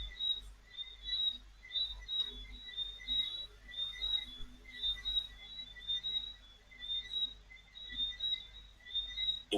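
Small birds chirp in faint, high, repeated calls at a steady, regular pace, heard alone against a quiet background.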